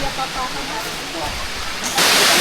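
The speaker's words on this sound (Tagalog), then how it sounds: "Welcome sa Kaparkan Falls." Kaparkan Falls, a waterfall in Abra in the Philippines, pours as a steady broadband roar that surges louder near the end, with nearby voices mixed into the rushing water.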